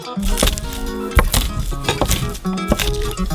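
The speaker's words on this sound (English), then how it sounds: "Crush them again," Repeated sharp knocks and cracks as garlic cloves are crushed on a board, several hits in quick succession over background music.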